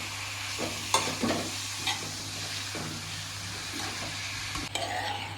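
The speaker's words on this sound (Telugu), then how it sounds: "మొత్తం వేసేసిన తర్వాత ఒకసారి కలిపెట్టుకోవాలి" Grated beetroot being stirred as it fries in a pan: soft scraping strokes and occasional spoon taps over a quiet steady sizzle and a low hum.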